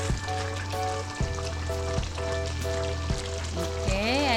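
Thick chilli pork belly mechado sauce simmers in a pan, with a soft, continuous bubbling sizzle under background music.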